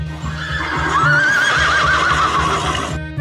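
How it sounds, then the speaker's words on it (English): Horse neighing loudly, one long descending whinny with hoof clip-clop and steady background music underneath. "horse,"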